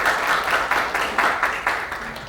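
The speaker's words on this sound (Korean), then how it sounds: "박수로 환영해 주시면 감사하겠습니다." An audience at a medical products expert forum claps to welcome the next presenter, a brief burst of applause that pulses in uneven waves, fairly close and clear, fading slightly at the end.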